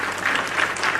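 Canned clap sound effect set off by a stream chat command, a short burst of crowd-like applause, even and fairly loud, with no talk over it.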